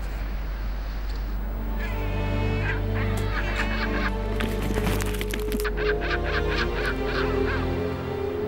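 A Patagonian penguin colony calls in alarm, loud honking and braying cries overlapping densely from many nearby birds over a constant low background.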